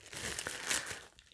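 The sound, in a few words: unwrapping saran wrap from a beer bottle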